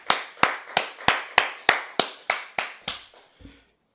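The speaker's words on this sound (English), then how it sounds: "Give Larry Fink a round of applause." Slow, evenly spaced handclaps, about ten sharp claps, ring out close by and gradually fade, sounding like a single person or small group rather than a full audience.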